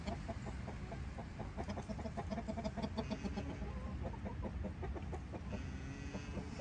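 Production Red hen and other chickens clucking at close range in a breeding pen, a dense, continuous run of overlapping clucks and short calls with no talk.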